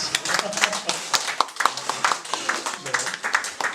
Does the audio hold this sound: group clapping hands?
yes